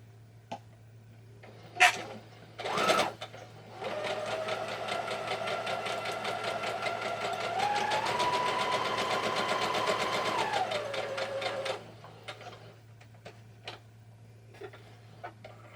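A sewing machine fitted with a piecing foot stitches candlestick quilt block pieces, running steadily for about eight seconds after a few brief clicks and handling noises, its motor whirring close and clear with no talking.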